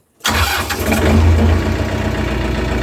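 A Mitsubishi MT 26 mini tractor engine bursts into life abruptly and settles straight into a loud, steady, close-up running rumble heard from inside the cab, with no voices over it.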